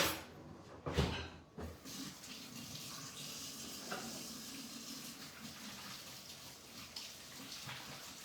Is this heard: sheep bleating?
no